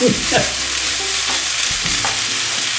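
Chicken for enchiladas fries in a small, crowded pan, giving a steady close hiss with intermittent scraping stirs; no one speaks.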